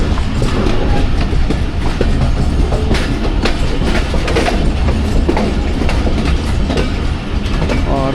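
The Awam Express rolls steadily on rails between Rawalpindi and Lahore, a loud, close, continuous rumble with rhythmic wheel clatter over the track joints.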